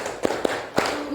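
Three quick hand claps in a classroom clap game, two in fast succession and a third after a slight gap, fairly close and clear over quiet room hum.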